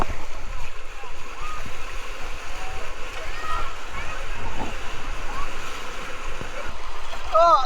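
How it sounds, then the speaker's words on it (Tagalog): Ocean waves break and wash onto a hot beach at Baler, Aurora, making a continuous roaring rush with surging swells. A person speaks over the surf for much of the time. "Ganda ng alon, no? Taas!"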